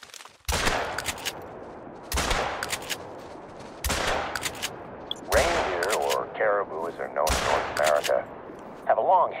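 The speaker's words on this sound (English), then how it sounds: "Wait, I mean I used a shotgun." Shotgun blasts in the hunting game theHunter: Call of the Wild, five loud sharp reports spaced a couple of seconds apart, each with a short decaying tail, with background game ambience between them.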